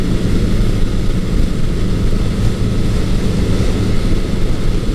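A vintage cruiser motorcycle with a Mack exhaust, a Honda CB900C or Suzuki GS1100L, accelerates in a continuous loud, rumbling engine drone with heavy wind noise and no voices.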